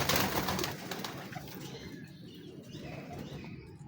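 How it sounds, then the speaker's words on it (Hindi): Lakha pigeon, a male of a prized show breed, with close, continuous bird noise that is loudest at the start and fades slightly, mixing soft cooing and some wing flutter with no talk. "बड़ा अच्छा कबूतर है ये भी,"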